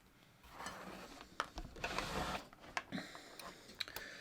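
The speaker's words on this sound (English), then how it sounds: "And now I'm going to go back to the sewing machine." A sewing machine stitching fleece fabric runs in a steady mechanical whir, with a few sharp clicks and taps as it stops and starts, fairly close.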